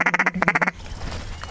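A person mimics a duck call: four quick nasal quacks, a brief pause, then four more, loud and close, ending sharply with a quiet room afterward.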